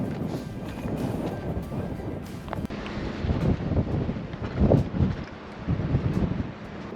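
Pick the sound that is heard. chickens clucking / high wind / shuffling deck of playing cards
high wind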